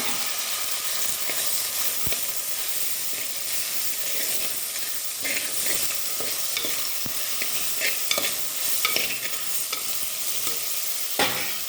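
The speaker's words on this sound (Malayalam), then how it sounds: "വെണ്ടക്ക ഒന്ന് ഇളക്കി കൊടുത്തിട്ടേ ഉള്ളൂ കുറച്ച്" Okra frying and being stirred in a pan with salted, mostly cooked onions, giving a steady close sizzle and hiss broken by sharp scrapes and clicks of the spoon.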